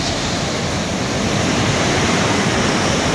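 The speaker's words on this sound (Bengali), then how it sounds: "দেখো সমুদ্রের ঢেউ" Sea waves at Golden Beach, Puri, a Blue Flag beach, roar as a loud continuous wash of surf with wind buffeting the microphone.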